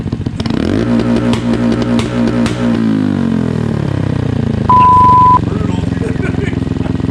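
A Honda Grom motorcycle engine held on a two-step rev limiter at 7,000 RPM during ECU tuning, loud and close with a rapid stuttering buzz that fades out, followed by a steady electronic tone.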